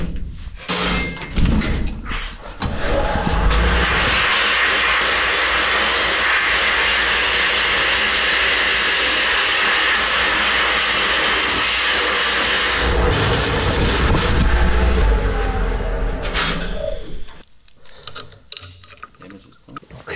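Abrasive blasting of a part from a barn-find Harley racer, a loud continuous hissing blast lasting about fifteen seconds, close up, with clunks and handling noises before it starts and after it cuts off.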